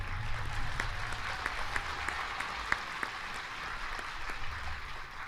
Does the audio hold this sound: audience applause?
yes